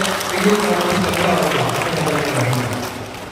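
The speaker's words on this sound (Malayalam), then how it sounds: "നമുക്ക് നല്ല ഒരു കയ്യടി നൽകി ഇതിന്റെ" Audience clapping at a church-parish gathering, a steady wash of applause sustained for a few seconds at moderate loudness, with a voice murmuring underneath.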